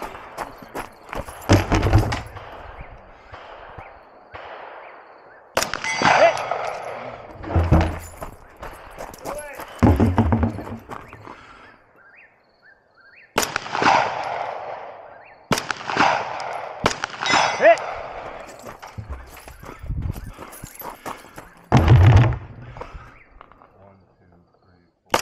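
About ten loud gunshots crack at an outdoor shooting range, spaced irregularly with ringing decays, while people talk between the shots.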